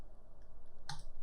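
A single sharp key press on a computer keyboard near the end, close and fairly crisp over a low steady background hum.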